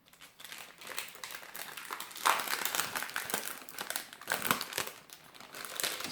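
A paper parcel being opened, with close, continuous crinkling and rustling of paper in uneven bursts, growing louder as the wrapping is pulled apart.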